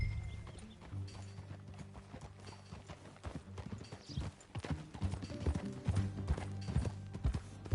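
Hooves clip-clop on hard ground, a brisk, uneven stream of close knocks that grows louder as the horses move along on a ranch. Low music hums underneath.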